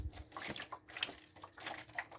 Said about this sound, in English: what we're going to do first is fill with warm water all the channels evenly